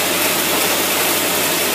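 A boat engine in poor running condition gives a loud, close, rough roar, steady and broadband across a brief moment with no talking.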